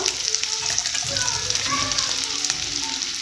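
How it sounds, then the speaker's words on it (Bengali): Soybean chunks fry in a pan with a steady, dense hiss of oil, close up, with a faint background tone and occasional light stirring, no voices heard. "ভালো করে মেখে নিয়ে ভেজে নেব কিছুক্ষণ ভেজে নেওয়ার পর বড়িগুলো দেবো"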